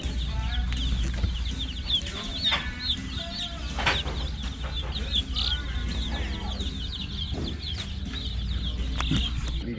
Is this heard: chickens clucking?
yes